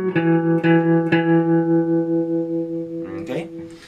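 Electric guitar playing a riff in a twangy style, three picked notes ringing out with long sustain, then a quick run of further notes near the end, close and fairly loud.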